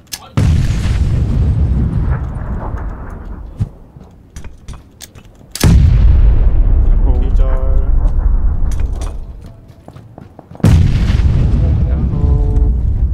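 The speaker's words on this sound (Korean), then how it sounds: "내 수류탄 맞나?" Loud grenade blasts in a battle royale video game, with three heavy booming explosions spread through the clip, each followed by a decaying rumble, and a player's voice talking between them.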